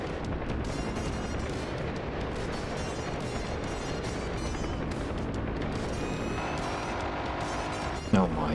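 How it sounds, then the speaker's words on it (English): Aircraft door gunners firing guns in the DCS World flight game, a continuous dense roar of rapid gunfire over a heavy engine drone, loud and steady, with a sharp thump near the end. "Ignore my overzealous gunners, they're just shooting at the gases"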